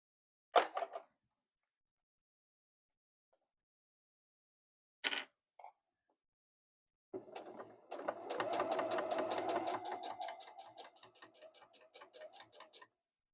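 A sewing machine stitches a seam on a handmade gift, running steadily for several seconds near the end after a few short, isolated clicks and knocks.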